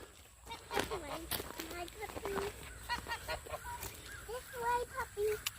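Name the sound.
farm birds and ducks near a puppy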